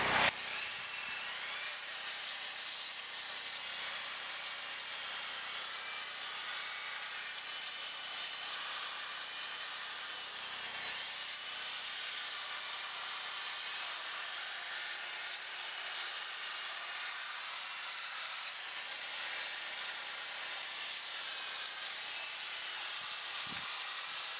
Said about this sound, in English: so I'm using this sanding disc here